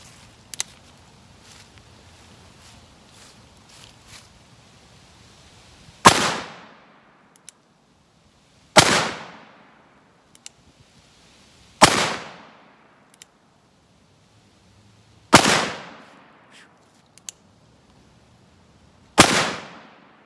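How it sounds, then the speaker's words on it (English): A BFR revolver in 45-70 with a 10-inch barrel fires five loud, booming shots outdoors, spaced about three seconds apart, each with a sharp crack and a short echoing decay. "Five rounds loaded up. Let's just shoot them off."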